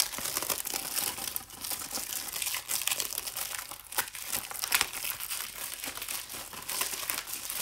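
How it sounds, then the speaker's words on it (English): Plastic wrapping on a disc case crinkles and crackles steadily and close up as the case is opened, with continuous rustling throughout and no voices. "for those of you who like the sound of crinkling"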